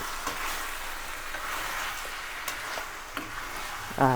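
Mutton curry with chili powder and turmeric is stirred in a frying pan, the oil sizzling steadily while a spoon scrapes and taps the pan a few times, ending with a louder clatter.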